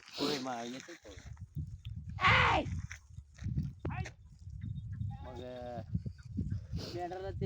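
Sheep bleat close by several times, wavering cries spread across the clip, with people talking in between and over them.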